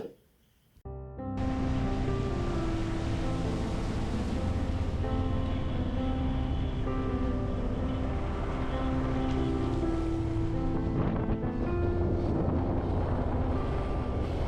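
Strong wind roars and buffets continuously near Sajjangad fort in Satara after a brief quiet start, a dense, loud rush that stays steady for the whole stretch.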